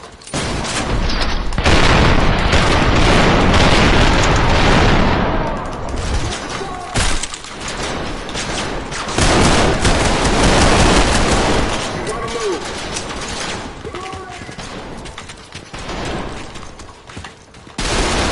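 Rapid, loud gunfire from the Trepang2 first-person shooter video game, with dense bursts of automatic shots and booming impacts that keep up nearly nonstop with brief lulls.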